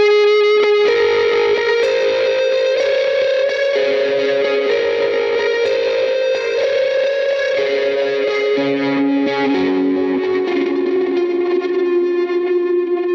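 A distorted electric guitar plays sustained chords and notes, washed in heavy reverb and echo, loud and continuous throughout.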